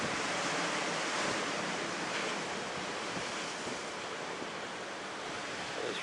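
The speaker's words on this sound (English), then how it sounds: "The waves are breaking nicely today after Hurricane Dorian passed through here" Ocean surf breaks on the rocky shore of Acadia National Park in Maine the day after Hurricane Dorian, a continuous, full roar of crashing water and wash that stays steady and close throughout, with no voices.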